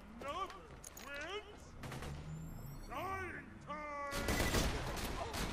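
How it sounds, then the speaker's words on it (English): Burst-fire sniper rifle in the shooter game Borderlands 2, its bursts mixed with game music, warbling electronic tones and effects; a loud crackling volley near the end, with a player's voice heard briefly over it. "Forgot this sniper rifle has burst."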